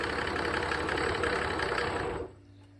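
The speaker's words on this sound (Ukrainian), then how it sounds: "а цей на холостих піддимлює" Mercedes OM603 diesel engine running at idle on an irrigation water pump, a steady loud mechanical drone with a rough knocking texture that cuts off sharply near the end, leaving faint low hum.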